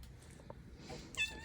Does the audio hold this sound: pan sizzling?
no